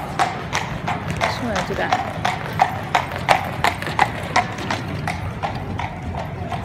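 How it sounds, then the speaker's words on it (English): A horse clip-clops along a village street in Interlaken, Switzerland, its hooves striking in a steady, fairly close rhythm while a person talks over the top. "Here comes a little horse."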